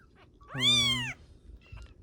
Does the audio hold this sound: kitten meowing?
yes